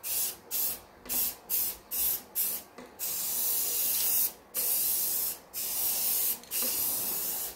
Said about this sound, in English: This stuff actually sprays really nice.